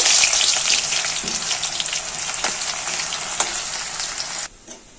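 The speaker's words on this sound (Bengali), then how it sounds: "এই পেঁয়াজটা দিয়ে দেবো। পেঁয়াজটার উপর একটু ভেজে নেব।" Chopped onion sizzles steadily in hot mustard oil, browning for an egg korma; a loud, continuous close-up crackle with faint stirring that cuts off near the end.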